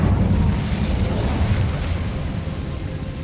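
A fire spell cast in Hogwarts Legacy bursts into a loud whooshing, roaring blast of flame with heavy low rumble, fading slightly as it burns on.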